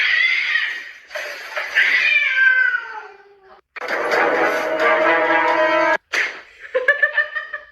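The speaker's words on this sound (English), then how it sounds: "damn, look at those cats" Several cats meow and yowl in loud, drawn-out cries, with short pauses between bursts and a final run of quick, choppy mews.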